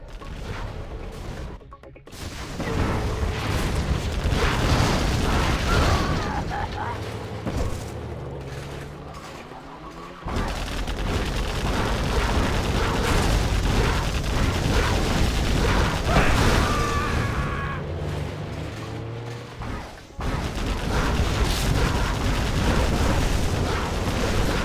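Heavy explosions and cannon fire from a Spectre gunship in a real-time strategy match, with dense, rumbling booms and mechanical clatter sustained at loud levels throughout, broken by two short pauses.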